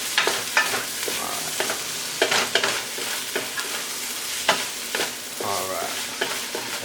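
Onion and ginger frying in oil in a pan, close and steady, with a crackling sizzle and sharp scraping bursts as the mix is stirred.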